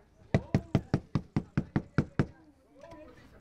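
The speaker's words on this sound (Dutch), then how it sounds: "als er op de deur wordt geklopt" A door is knocked on about eleven times in a quick, even rhythm during a Sinterklaas visit to a container camp in Qatar. The raps are crisp and close, followed by faint voices.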